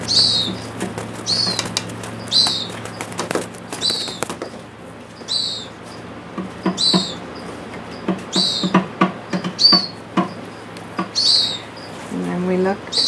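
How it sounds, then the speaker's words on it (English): A domestic pigeon that cannot fly flaps its wings in repeated short bursts at a wildlife sanctuary, with high bird chirps in between and a faint voice near the end. "It's a domestic pigeon, but it was brought in here because it doesn't fly."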